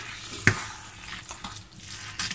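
Courgettes stirred into a pan of shrimp risotto, a quiet sizzle with soft wet stirring and one sharp clink of the utensil against the pan near the start, close and brief.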